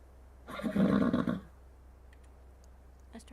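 A horse in ARK: Survival Evolved whinnies once, a loud, close neigh lasting about a second, followed by quiet background with a few faint clicks.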